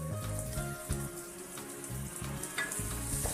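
A crushed spice mix with garam masala sizzles and fries in a pan for chicken thoran, a close, steady crackle with stirring scrapes.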